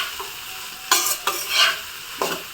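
Chicken noodles are stirred in a pan, with a few distinct scraping strokes over a light, steady sizzle.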